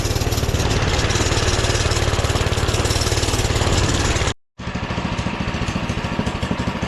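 A Doodle Bug minibike engine held at full throttle while struggling uphill with almost no power drones loud and close in a rapid, buzzy putter, cutting out for a split second before resuming.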